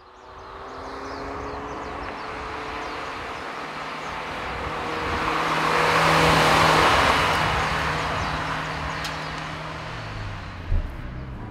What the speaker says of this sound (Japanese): まずエンジンの音も違いますね。